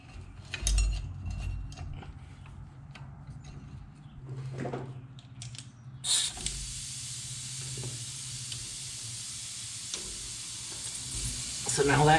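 A welder tack-welding a disc brake bracket in a DIY brake kit build: after quiet handling clicks, a sharp onset gives way to a steady crackling, sizzling arc that runs for several seconds at close range.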